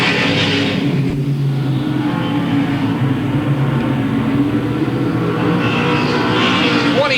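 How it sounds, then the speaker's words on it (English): Late model race cars circling Louisville Motor Speedway in 1997, a continuous loud engine roar with no letup, rising and falling as the pack runs down the back straightaway. "So the top 3 cars have now put Dr. Jeff Berg 1 lap down as they move on to the back straightaway"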